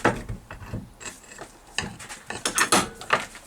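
Metallic clanks and ratcheting clicks come from clamping a bolt on the front suspension of a Rover P6 V8, a close, uneven run of mechanical knocks and scrapes with no talk.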